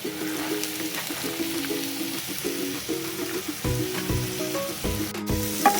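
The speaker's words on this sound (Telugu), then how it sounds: "మంచిగా ఆయిల్లో మగ్గనివ్వాలి." Chana dal frying in oil with ginger and garlic, a steady sizzle joined by a few low knocks and scrapes of a spoon stirring in the pan.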